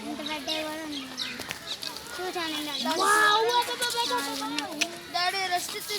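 A large bird calls repeatedly at Nehru Zoological Park, giving clucking, squawking cries mixed in with the chatter of nearby visitors talking over it.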